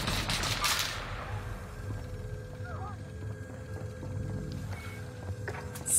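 A shooter video game with rapid bursts of gunfire layered over a busy mix of game effects and engine noise, and shots echo throughout. Some louder cracks stand out near the start and the end.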